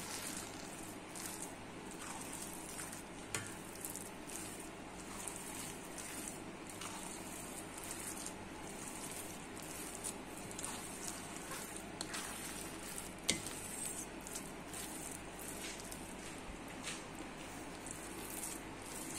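Cooked sticky biko rice cake is worked with a spatula in a pan, giving a continuous close sizzle with soft scraping and squishing strokes and occasional sharper clicks, no talking.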